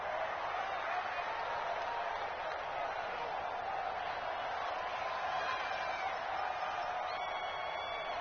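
A stadium crowd in the Madden 20 football video game keeps up a steady, dense roar of cheering and chatter, constant and fairly loud from start to finish.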